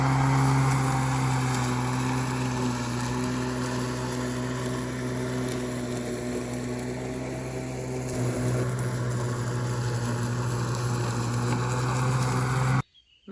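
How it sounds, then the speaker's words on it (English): A battery-powered lawn mower runs steadily with a constant motor hum and whine, close by, continuing without a break until it cuts off abruptly at the end as the battery dies. "Once the batteries are dead, we'll get out the tractor and we'll do some bush hogging."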